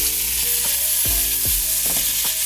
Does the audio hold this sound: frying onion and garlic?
yes